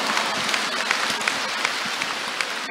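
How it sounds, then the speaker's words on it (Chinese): A crowd at a Buddhist Q&A gathering in Kuala Lumpur claps steadily, the applause dense and even with a few sharper claps poking through. "看见吗？ 鼓掌。"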